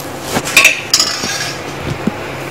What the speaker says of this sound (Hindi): मूंगफली हो गई है रोस्ट, इसको एक बर्तन में निकाल के रख लेता हूँ।